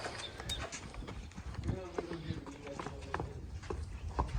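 Horse hooves clopping at a walking pace over a busy background, with people talking nearby throughout; a Nukra horse at a Punjab village stable.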